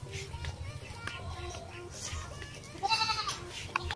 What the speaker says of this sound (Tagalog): Yung mga kambing din sila.